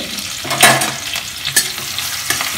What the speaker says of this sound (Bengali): এটাকে একটু হালকা হাতে নেড়ে নিচ্ছে